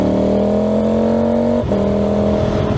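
A motorcycle engine pulls hard in fourth gear on a hilly country road, a loud steady rising drone close to the rider, briefly dipping at a gear shift or throttle change before building again.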